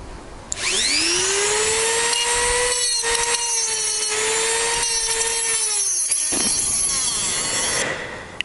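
Cutting through a stubborn bolt on a Yamaha XJ900S motorcycle engine, with the bike laid on its side: a loud, steady harmonic whine of continuous grinding that runs about seven seconds, then stops abruptly.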